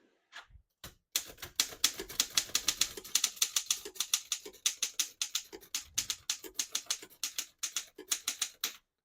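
Someone types on a 1919 Underwood No.5 antique desktop typewriter, each key striking with a sharp, close clack in a quick, steady run of strokes after a couple of isolated taps, with no talking.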